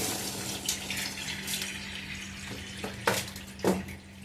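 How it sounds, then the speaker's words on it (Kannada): Water drains and splashes in a kitchen while brined mango pieces are strained for homemade pickle, a steady running flow with a few louder splashy pours near the end, heard close and with no talking. "ಇದನ್ನು ತೆಗೆದು ನಾವು ಈಗ ನೀರನ್ನು ಬಸಿಯುವ."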